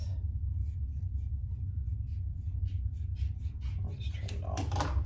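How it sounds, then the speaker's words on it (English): Leather for a waist pack being trimmed, a quiet series of short rhythmic snips or cuts repeating about twice a second over a low rumble, growing busier toward the end. "I'll just trim it off."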